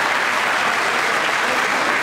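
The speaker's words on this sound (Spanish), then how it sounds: "darle el más fuerte el aplauso a estos pequeños" Audience applauding small children as they present a new official 2017 football club shirt at a stadium, with dense steady clapping throughout and no voices over it.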